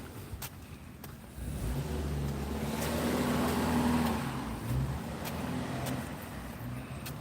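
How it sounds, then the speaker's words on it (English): A car engine running rough and in need of a tune-up idles and revs with a low, uneven rumble. It grows louder midway, then stays steady, with scattered background noise. "But that car sounds like it needs a tune-up."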